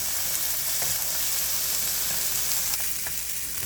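Carrots, garlic and onions begin to cook in a hot pan for a Mexican-style ground beef casserole, making a steady, close, even sizzle with a few soft clicks.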